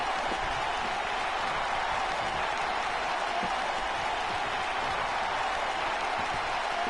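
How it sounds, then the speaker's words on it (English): Video game arena crowd noise from WWE 2K19 wrestling, a dense, steady roar of cheering and applause sustained throughout at moderate level, with no clear talk on top. "I know you hear the crowd, they happy"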